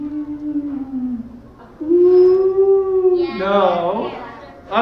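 A single voice at a K-5 school reading event imitates a siren going down the street, a long wavering wail that swoops up and down in pitch, fairly loud and close, alone without other talk.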